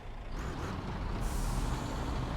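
Vehicle air brake in the video game Jurassic World Evolution 3, a loud sustained hiss of released air, close and steady for a couple of seconds.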